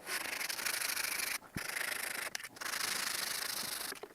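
Close, continuous wet sanding on the damaged front bumper of a Peugeot 406 coupé: a steady abrasive rasp with brief pauses as the stroke stops and restarts.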